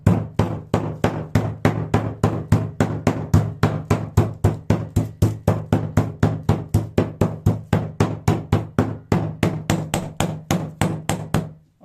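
Meat pounded flat with a mallet, dozens of sharp evenly spaced thuds struck in a quick steady rhythm, close and loud with no talking.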